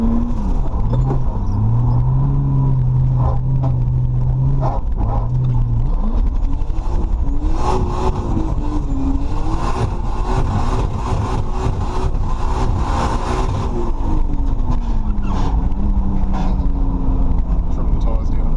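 An old pushrod V6 Holden Commodore engine rumbles and revs unevenly, its pitch rising and falling as it drives, with people talking over the steady motor noise.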